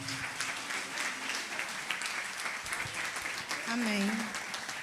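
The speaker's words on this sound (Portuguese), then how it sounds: "Vamos aplaudir o nosso Deus?" A congregation in a church service claps together in a sustained round of applause, with voices speaking and calling out over it.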